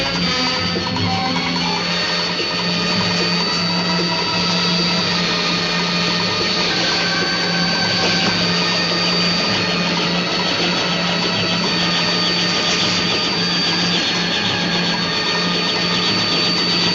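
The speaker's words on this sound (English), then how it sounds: "A chopper!" A helicopter's engine and rotor churn in a loud, steady, unbroken drone that holds at the same level throughout, with no one speaking.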